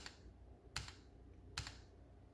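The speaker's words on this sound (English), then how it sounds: "if you hold down function and hit left control" Two sharp, clacky keypresses on a Womier K66 mechanical keyboard, spaced evenly apart and close up over a quiet background with no talking.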